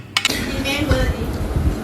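Plates and dishes clatter and clink together close by, a busy jumble of ceramic knocks with some background voice.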